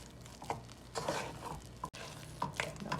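Flour batter for Haitian tomtom being beaten and stirred in a bowl, a steady scraping, sloshing rhythm with soft clinks of the utensil against the bowl, close and continuous with one brief pause.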